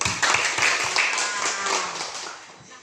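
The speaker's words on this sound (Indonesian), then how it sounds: "Tepuk tangan dulu tuh." Students clapping in a classroom during a primary school lesson, a close burst of uneven hand claps that thins out and fades toward the end.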